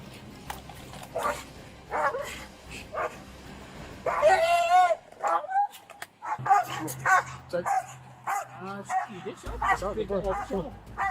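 Police dog barking during a traffic stop arrest after a Walmart shoplifting, sharp barks and yips scattered through loud shouted commands from officers, with the dog close by.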